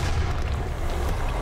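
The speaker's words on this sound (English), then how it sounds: "Explosion!" Heavy explosion in the shooter game Doom: a sustained, loud low-end boom and rumble filling the whole moment, with no talk over it.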